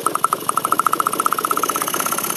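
George Eli Whitney's experimental engine running, a rapid, even chuffing beat with a metallic ringing rattle, loud and close, the pace quickening slightly toward the end.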